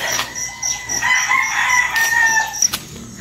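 Several roosters crow loudly and close by over a constant insect buzz, with some clucking mixed in.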